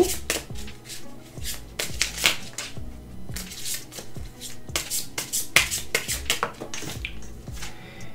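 Tarot cards are shuffled by hand at close range for a one-card reading, with repeated riffling, flapping bursts and soft slaps in an uneven rhythm.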